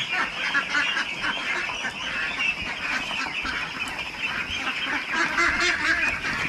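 A dense flock of farm ducks quacks continuously in a loud, overlapping chorus, with steady calls layered on top of each other throughout and no pause.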